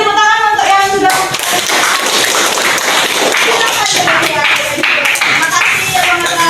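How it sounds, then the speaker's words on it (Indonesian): A group claps hands in a classroom-style session, dense clapping mixed with voices and chatter, loud and close throughout. "Beri tepuk tangan untuk yang sudah."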